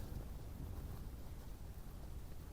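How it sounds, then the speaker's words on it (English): Wind at a summit camp on Quinag in Scotland, a steady broadband rush buffeting the microphone with a low roar, fairly faint and continuous, and no one speaking. "the wind has all of a sudden also picked up, just as forecast"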